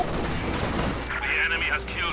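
Machine gun fire from Maxim heavy machine guns in Company of Heroes 2 rattles in a short dense burst, mixed with other battle noise and game effects.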